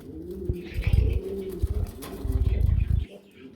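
Pigeons on a pigeon farm coo in low, throaty, rolling bursts close by, with soft rustling and flutter around them.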